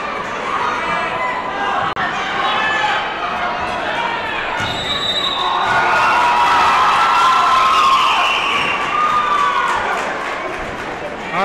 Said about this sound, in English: they got quite a few people across from us right now in the bleachers, and they've been keeping it plenty loud, cheering on their team